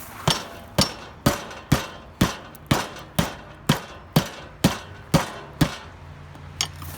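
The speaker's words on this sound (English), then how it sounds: "Grab yourself a hammer." Loud metallic hammer blows strike at a steady pace on a mower tire bead to break the seal, about a dozen sharp clangs roughly half a second apart, each ringing briefly before the next.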